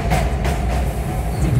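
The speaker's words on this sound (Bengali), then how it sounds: "একটা ট্রেন গেল ওদিক দিয়ে, আবার একটা ট্রেন আসছে দিয়ে।" A train rolls past on nearby tracks near Dankuni, heard from inside a moving car running alongside it. A steady, loud low rumble continues throughout with no voices.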